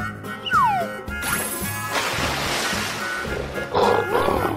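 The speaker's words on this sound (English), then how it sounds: "Lion." A loud, animated lion roar from a children's game, with swooping cartoon-like tones and a broad rushing noise that lasts a few seconds.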